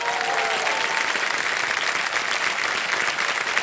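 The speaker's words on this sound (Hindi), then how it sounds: "तालियां बज जाए इनके लिए।" Studio audience on a televised quiz show breaks into sustained applause for a contestant, a thick, unbroken wall of clapping with no speech.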